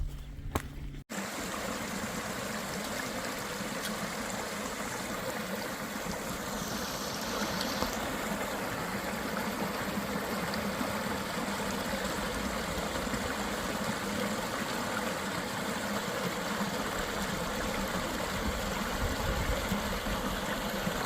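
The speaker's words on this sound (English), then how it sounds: "Crossing Cave Creek." Cave Creek rushing steadily past a creek crossing on a rain-soaked forest trail, a continuous close broadband wash of flowing water that holds even and unbroken throughout.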